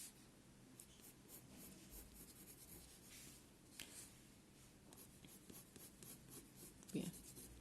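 Watercolor pencil drawn lightly across paper, a soft continuous scratchy rubbing that runs steadily with small strokes, quiet and close, with a slightly firmer stroke near the end.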